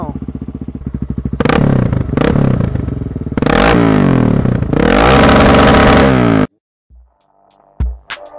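A Honda CBR250R motorcycle engine revs hard in repeated loud bursts, rising and dropping between throttle blips with clattery idle between, up close, then cuts off abruptly, leaving near silence and a few faint clicks.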